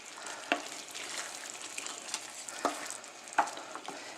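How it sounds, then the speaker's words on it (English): Simmering spaghetti sauce in a pot being stirred after pasta water is added, giving a low bubbling sizzle with a few soft scrapes and taps of the spoon, close and steady, with no talking. "you take a little bit of the pasta water and add that in there"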